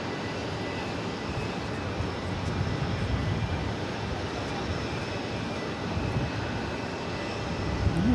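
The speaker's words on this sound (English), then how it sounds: "That's American Airlines 236 heading off to Rome." An American Airlines Boeing 787-9 Dreamliner departs JFK with a steady, moderately distant jet roar, even and unbroken from start to finish, with no talking over it.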